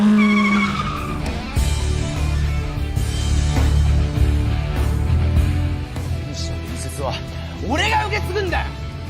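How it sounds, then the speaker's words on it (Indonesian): A roaring motorcycle arrives in a film scene, its engine growl and a squealing sweep rising under continuous narration. "tiba-tiba mereka mendengar raungan motor yang memasuki tempat itu sendirian dengan gagah"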